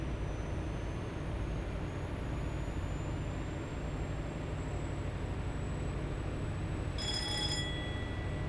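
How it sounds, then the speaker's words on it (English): Telephone ringing inside a train cab during a simulated run on the Riviera Line, a short bright electronic ring burst near the end over a steady loud engine and rail rumble. "Will someone answer that phone?"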